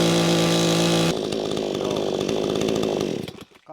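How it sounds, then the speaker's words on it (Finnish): A chainsaw fitted to an Alaskan mill cuts planks, loud and close, with a steady high engine whine that drops in pitch as it bites into the wood, then winds down and cuts off near the end. "Siinä oli semmoista Alaskan sahausta"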